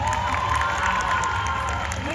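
A brief burst of crowd cheering and clapping at a cosplay contest, loud and continuous, with voices shouting over the noise.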